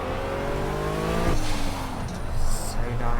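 Turbocharged Pagani Huayra engine in the racing game Project Cars, close and loud, revving with rising gear tones that drop sharply at a shift, then a whoosh and hiss of turbo spool and blow-off.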